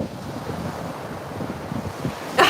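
Wind blows outdoors across the microphone, a steady, fairly soft rushing buffet with a louder gust at the very end.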